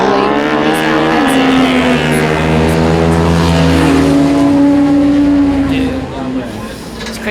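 A racing motorcycle rolls down the pit lane at Mid-Ohio, its engine a loud, continuous drone whose pitch climbs and then steadies over several seconds before easing off near the end.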